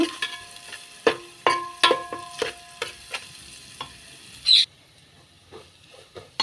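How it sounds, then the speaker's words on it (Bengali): Onions frying in oil for a mutton nihari are stirred in a pan, with a soft sizzle under repeated close scraping taps of the spoon, then a quieter hiss. "এবার আমি পেঁয়াজটা নেড়ে চেড়ে ব্রাউন কালার করে ভেজে নেব"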